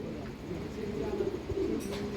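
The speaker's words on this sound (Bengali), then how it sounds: "সেম জেনারেশনের পায়রা বা কবুতর উড়িয়ে দেখানো হচ্ছে।" Pigeons of a Madrasi breed coo steadily on a rooftop while being flown, a soft continuous throaty murmur with brief chirps and light wing noise at the end.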